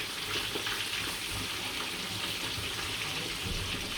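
Cold water runs steadily over drained beans, a continuous close rushing splash like a kitchen tap pouring into a colander, with no talk over it.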